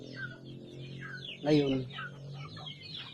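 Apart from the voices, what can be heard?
organic chickens clucking on a farm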